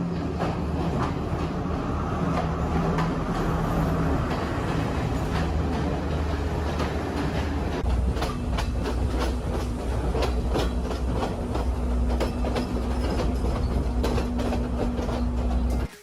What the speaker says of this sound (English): We took the 7-hour train ride from Kandy to Ella.